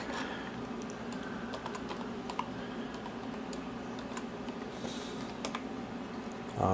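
Fingers tap out a password on a computer keyboard while setting up a Hackintosh, a steady run of light clicks over a constant low hum, with no talking.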